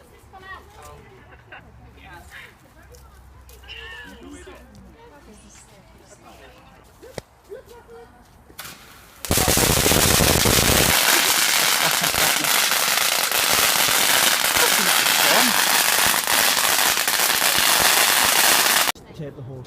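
Firecrackers set off on 5 November erupt in a dense, loud crackling roar lasting about ten seconds, following a quieter stretch of outdoor chatter and scattered pops.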